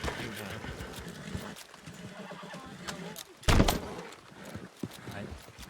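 A horse whinnies loudly in a short burst, over faint hoof clatter and muffled voices talking in the background.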